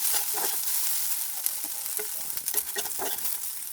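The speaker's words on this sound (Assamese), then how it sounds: "চয়াবিনখিনি ধুনীয়াকৈ ৰঙচুৱাকৈ ভাজি ল'ম" Soybean chunks fry in a hot wok with a crackling sizzle and scraping stir strokes, moderately quiet and close, no voices.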